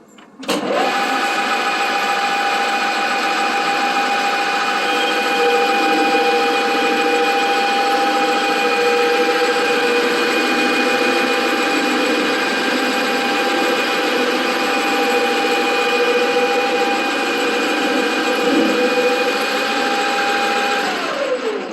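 A lathe faces a workpiece and then reduces its diameter, running dry without coolant. A steady, loud mechanical drone with high tonal whine carries on throughout with little variation.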